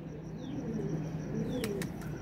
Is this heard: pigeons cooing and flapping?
yes